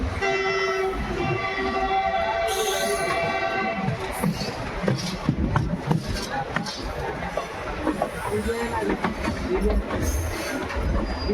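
The 14087 Runicha Express, hauled by a WDG 3A diesel locomotive, rolls toward Phulera Junction with a continuous rumble and clatter of wheels on track, a loud sustained horn early on, and faint voices nearby.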